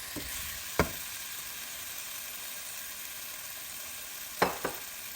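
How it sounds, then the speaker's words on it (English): A lamb stir fry with rice noodles sizzles steadily in a pan, broken by a few sharp utensil scrapes and knocks, one early and a pair near the end. "Then I'm gonna stir it."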